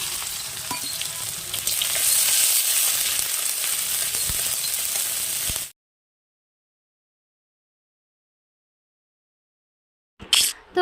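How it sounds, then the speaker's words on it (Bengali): Onions fry for beresta in a wok over a clay stove, a loud, steady sizzle for several seconds that cuts off abruptly into silence before a brief noise returns at the end. "এইদিকে দেখো আমার পেঁয়াজগুলো বেরেস্তা করার জন্য ভাজা হয়ে গেছে"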